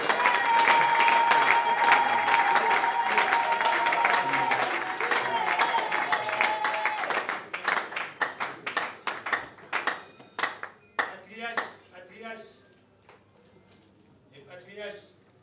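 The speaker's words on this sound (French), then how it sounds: "notre parrain, l'apôtre Serge Lukanga, sous nos applaudissements, s'il vous plaît." Audience in a church applauding to welcome a guest apostle, a sustained roar of clapping under a voice and music that thins into scattered, distinct claps, with laughter and chatter as it fades.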